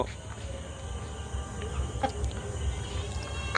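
Tiger chickens on a poultry farm cluck softly in the background, scattered low calls over a quiet hum of insects and crickets, with no one speaking.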